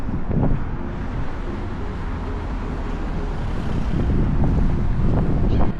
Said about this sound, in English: It's quite windy today, that's probably coming through on the camera.